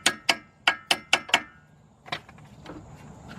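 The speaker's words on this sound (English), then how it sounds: "tap that chisel in there" A hammer strikes a chisel set into a slot on the axle shaft of a 2001-2004 Hyundai Santa Fe with manual transmission: six sharp, close metallic taps in quick succession, then a softer clank and faint shuffling.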